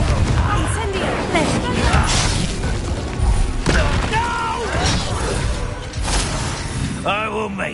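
Spell-casting effects from the Hogwarts Legacy game, an Incendio fire spell amid a magic duel, with booming bursts, crackling blasts and whooshing impacts layered under voiced combat shouts.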